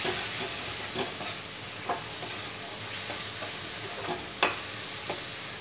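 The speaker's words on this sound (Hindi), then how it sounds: "मलाई को भी मैं अच्छे से भून लूंगी जब तक ये तेल छोड़ दे।" Malai cream fries in spiced masala in a pan, a steady soft sizzle with occasional scrapes and taps from stirring and one sharper clink near the end, with no voices.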